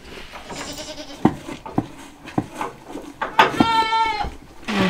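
Goats bleating on a rural farm in Maramureș, Romania, several wavering cries in a row that grow louder and closer toward the end, with scattered thumps and brief talk between them.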